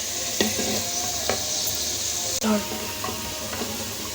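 Onions sizzle and fry in hot oil for mutton kunna, a steady close hiss with a few light stirring knocks from a spoon against the pan.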